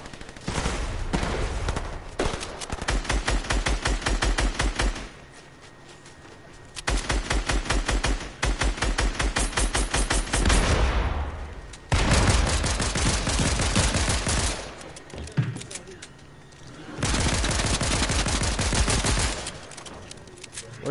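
Bursts of rapid automatic gunfire in a video game, sustained volleys of several seconds separated by short lulls, loud and close with no talk over it.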